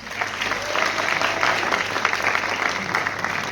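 An audience at a Marathi film event bursts into loud, sustained applause, dense steady clapping from a large crowd close by, holding at an even level throughout.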